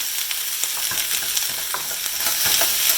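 Onions frying in a hot pan, a steady bright sizzle with soft scraping stir strokes repeating throughout, close and unaccompanied by speech.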